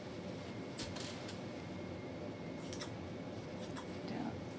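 Scissors snip off excess green velvet fabric in a few short, close cuts over a steady low background hum, with no talking.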